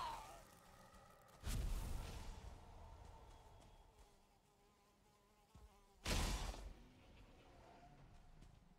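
A mosquito in the video game Valheim buzzes with a thin, wavering whine, faint and steady, broken by two louder whooshing impacts around the middle and later on.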